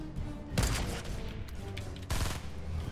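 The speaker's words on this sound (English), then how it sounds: "Those shots are really close." Gunfire in the battle royale game Fortnite comes as two sharp bursts of rapid shots, close and loud, separated by a short lull with faint game ambience between them.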